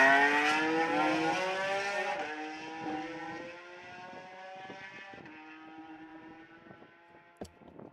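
A Porsche 992 GT3 RS with a modified exhaust revs high and then winds down through falling gear-like tones, loud and close at first, fading and settling before a brief sharp pop near the end.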